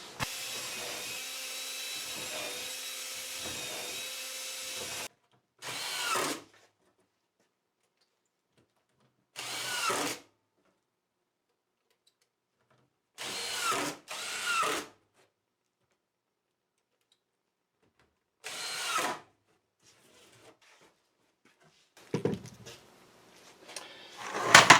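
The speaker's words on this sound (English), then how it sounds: "now I'm going to drill a couple of holes in each, the top and bottom" A power drill drives holes into pieces of a wooden box, a long steady whine followed by several short separate bursts with quiet gaps between, close and fairly loud.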